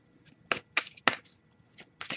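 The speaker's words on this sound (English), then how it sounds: "I'll give it a couple more shuffles and see." Tarot cards are shuffled by hand up close, making a series of quick, crisp riffling bursts with short pauses between them. No one speaks.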